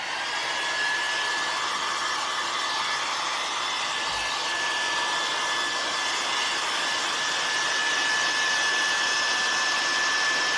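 A hair dryer blowing steadily on a freshly painted wonky ghost craft, a loud constant whirring rush with a faint high whine, unbroken for about ten seconds.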